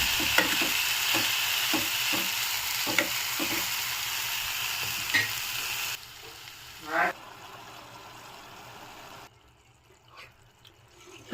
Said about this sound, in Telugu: ఒకసారి మిక్స్ చేసుకుందాం మొత్తం.